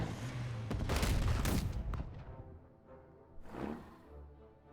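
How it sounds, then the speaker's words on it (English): Naval gunfire in the strategy game Unity of Command 2: a loud burst of booming shots at the start fades out, then one fainter blast follows, with no talking. "Thankfully, we have naval gunfire to back us up."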